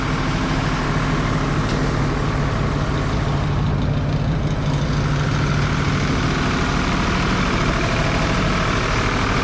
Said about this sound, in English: All self-contained, got a diesel engine on it to power it.